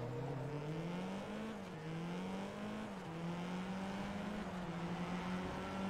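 Engine drone of a car in the Forza Motorsport 2 racing game, a steady loud tone that rises and dips slightly as the car approaches, continuous with no talking.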